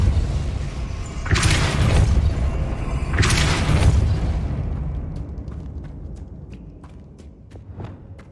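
Depulso force spell cast in Hogwarts Legacy, two loud booming blasts with rushing bursts about two seconds apart, then a fading rumble and scattered light clicks and footsteps.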